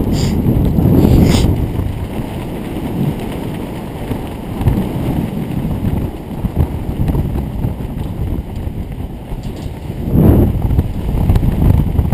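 Strong wind buffets the microphone in loud, rumbling gusts, with heavier blasts at the start and again near the end, at a 50-metre pipe structure during a rope jump.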